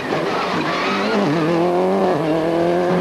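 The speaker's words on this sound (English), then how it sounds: "Austin McHale has a little half spin here" A rally car on a 2005 Donegal Rally stage half-spins, its engine droning loudly as tyres squeal and skid, with the pitch shifting as the car slides round.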